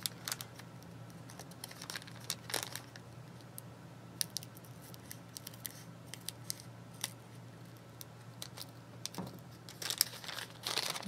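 Paper mail packaging is cut open with scissors at close range: quiet snips, crinkles and rustles in irregular bursts, louder toward the end.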